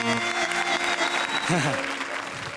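Dense, loud applause from a studio audience fills the space continuously, with a voice briefly rising over the clapping.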